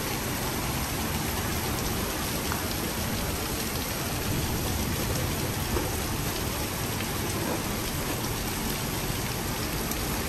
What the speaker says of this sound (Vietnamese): Rồi mưa tầm tã luôn.